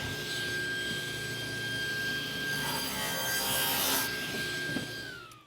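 A saw cuts the length of a wooden tenon for a bench, guided by a crosscut guide and fence with a height extender. It gives a steady, close rasping cut that fades near the end.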